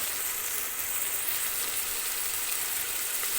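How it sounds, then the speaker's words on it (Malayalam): Sliced onions frying in hot coconut oil in a pan, a dense, even close-up sizzle that holds steady from start to finish with no voices. "വെളിച്ചെണ്ണ ഇവിടെ ചൂടായി വന്നിട്ടുണ്ട് ഇപ്പം നമ്മൾ അരിഞ്ഞ് വെച്ചിരിക്കുന്ന സവോള അതിലേക്ക് ഇട്ട് കൊടുക്കുക"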